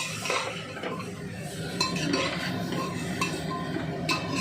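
Two chicken leg pieces are stirred in a pot for a light home-cooked curry, with a spoon scraping and clinking against the metal in an uneven rhythm, no voices.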